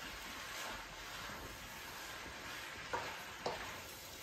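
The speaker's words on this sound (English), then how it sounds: "this is mixed around thoroughly" Spicy chicken and egg noodle mixture being stirred in a pan, a faint, steady sizzle with soft scraping and two brief clicks of utensil against the pan near the end.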